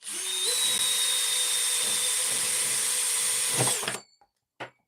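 An electric power drill runs in one continuous loud, high-pitched whine for about four seconds, then winds down and stops, followed by a short clatter.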